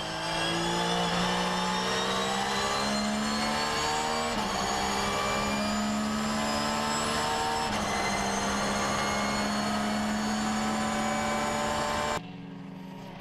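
GT race cars, a BMW and a Mercedes SLS, racing at Mugello: loud high-revving engines scream past continuously with gear-shift pitch drops, ending in a sudden cut to quieter noise.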